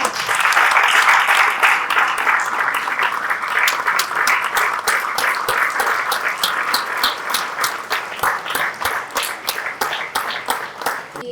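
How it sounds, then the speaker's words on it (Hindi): Loud, sustained applause from an audience at a book launch event, dense clapping that continues throughout, with individual claps growing more distinct toward the end. "जोरदार तालियां इनके लिए।"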